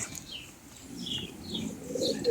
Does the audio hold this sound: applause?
no